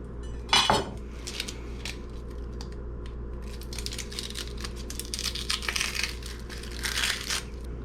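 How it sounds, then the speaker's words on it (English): A knife cuts an onion in half on a cutting board: a sharp, loud knock early on, then scattered crisp taps and light clicks from the blade meeting the board, close and dry, with no speech. "Okay, I cut the onion in half."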